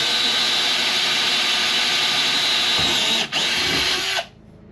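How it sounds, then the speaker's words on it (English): Power drill boring a hole in a catamaran hull under repair, a loud continuous high whine that holds steady, dips briefly, then cuts off near the end. "It only took me 3 seconds to drill a hole."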